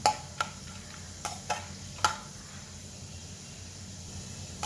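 Roasted gram dal crisping in a pan for a tangy chivda gives a quiet, low sizzle broken by a few sharp clicks of stirring near the start and again around two seconds.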